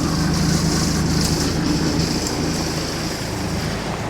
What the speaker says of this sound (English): It's a Detroit diesel DT 466.